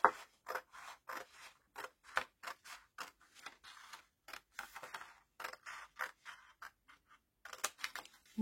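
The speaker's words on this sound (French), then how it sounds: "On va couper les 3 premières bandes." Scissors snip through paper in quick repeated strokes, each cut a crisp separate snap, the rhythm pausing briefly between runs as three strips are cut in turn.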